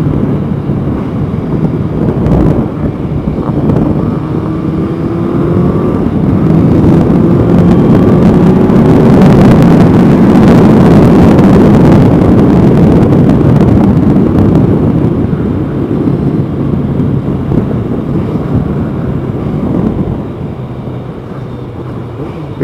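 A Kawasaki ZZR1100 motorcycle ridden on a commute, its engine drone swelling to a loud rushing peak and easing off again, heavily buried in blustery wind buffeting the microphone.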